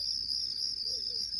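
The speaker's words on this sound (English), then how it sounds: "Crickets, some people like that." Steady cricket chirping played from a Housbay white noise machine, a continuous high trill holding at constant loudness with no talk over it.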